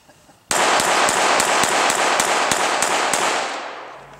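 Rapid pistol shots at an outdoor action pistol shooting event, about a dozen loud sharp cracks in a fast even string after a brief quiet start, fading out at the end.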